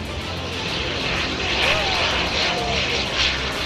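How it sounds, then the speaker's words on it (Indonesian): A Bombardier CL-415MP amphibious water bomber of the Malaysian Maritime Enforcement Agency flies a display, its propeller engines giving a steady, loud drone that swells and fades slightly as it passes. "Pesawat sedang melakukan water scoping."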